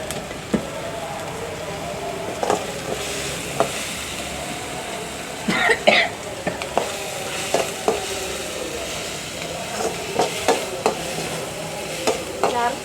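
Tomatoes, onions and curry leaves sautéing in a pan for a goat blood gravy, a low steady sizzle under repeated scraping and tapping of a spatula, some clusters sharper and louder, with faint background sounds.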